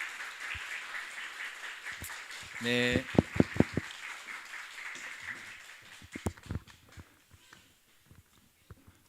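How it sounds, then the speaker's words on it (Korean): A church congregation at a Sunday service claps to welcome a pastor to the pulpit: a short burst of scattered applause under a brief spoken word, then thinning into a few sparse, irregular claps before fading. "우리 목사님 나오실 때 우리 박수로 환영하도록 할까요?"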